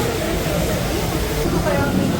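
Constant rumbling roar inside a moving Jan Shatabdi Express carriage leaving Ambala Cantt Junction, a steady loud hum and rattle with no break.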